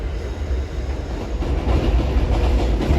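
A train in Long Island City picks up speed as it dives into a tunnel, a loud, close, continuous rumble of wheels and motors that swells slightly louder toward the end.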